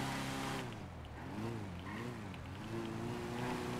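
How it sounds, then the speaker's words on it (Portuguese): A car drives in the video game GTA RP, its engine droning steadily with rising and falling revs, moderately loud and without talk. "Não precisa mais, consegui um carro aqui."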